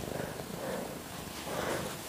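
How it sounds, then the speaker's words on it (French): A cat's soft, steady purr rumbles close up and continuously, low and even, with no other voices. "Est-ce que vous entendez le ronron du chat?"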